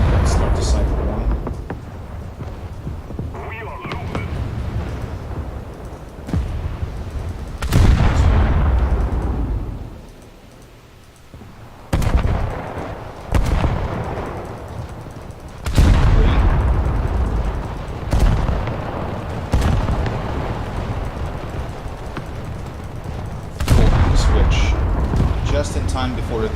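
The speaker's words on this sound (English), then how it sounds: "just fire the main guns on its own" Battleship main guns in the naval video game War Thunder fire in repeated deep, booming salvos spaced several seconds apart, each loud blast trailing off into rumble, while someone talks between and over them.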